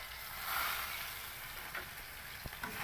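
Steady sizzling of hot oil frying in a pan on a home gas stove, with a few faint stirring clicks; quiet and close, no talk.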